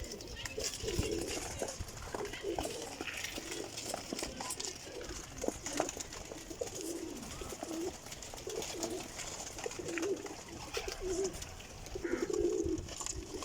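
Soft, low pigeons coo repeatedly in the background over a steady murmur of ambient noise, faint and somewhat distant.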